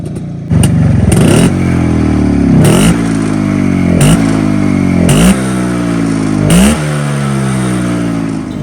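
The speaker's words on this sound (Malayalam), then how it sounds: "അപ്പോൾ ഇതാണ് വണ്ടി സ്റ്റാർട്ട് ചെയ്യുമ്പോഴുള്ള ഈ ഒരു സൗണ്ട്." Restored Yezdi Roadking two-stroke motorcycle firing up and revving hard several times, each blip rising sharply then falling back to a loud, clattering idle, close by with no talk.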